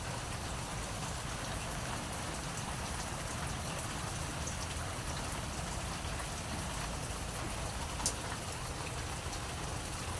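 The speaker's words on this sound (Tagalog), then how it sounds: "Lakas ng ulan." Steady, dense rain pouring down for the whole stretch, a constant loud hiss with a low rumble underneath and no voices.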